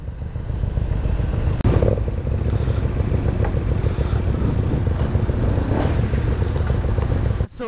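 A KTM RC390 motorcycle rides along a highway between Pondicherry and Bangalore, its engine droning loud and steady throughout with wind rush and a brief change near the start.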